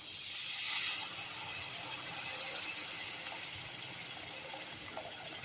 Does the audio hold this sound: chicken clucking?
no